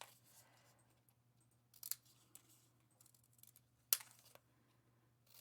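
Quiet snips of scissors cut through paper in a few sharp, isolated strokes over a low steady hum.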